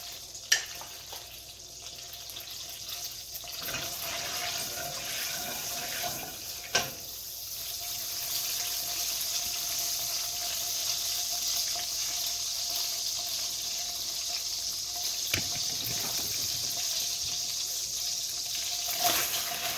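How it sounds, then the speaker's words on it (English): Butter and olive oil bubble and sizzle in a hot pan, a steady hissing crackle that runs throughout with a few sharper pops. "So now all the water is coming out of the butter. You can see it bubbles."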